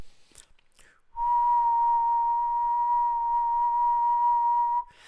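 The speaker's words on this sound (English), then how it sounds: "let me do the whistling again" One long, steady whistled note, almost a pure tone, held for nearly four seconds after some brief clicks and rustles, close and clear.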